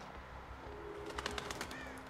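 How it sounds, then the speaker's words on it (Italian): A crow caws in the Until Dawn video game, a few short raspy calls in the second half over a low ambient hum, fairly faint with no talk. "Corvo."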